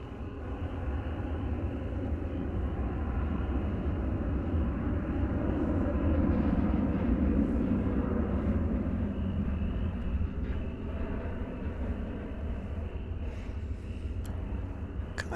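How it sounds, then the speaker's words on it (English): An airliner bound for Austin rolls on a DFW Airport runway, its broad steady engine roar sustained and fairly loud throughout with no one talking. "So here goes the flight to Austin"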